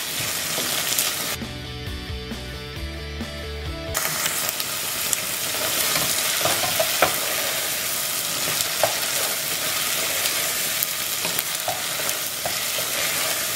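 Onions and tomatoes sizzle steadily in a hot pan while being sautéed for a Goan mince hot dog filling, a dense continuous frying hiss with a brief clattering mechanical stretch near the start.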